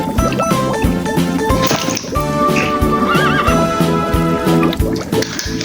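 A horse neighs with a rising, wavering whinny, set against rhythmic hoof clip-clops and music-like tones with a regular beat, all fairly loud and close.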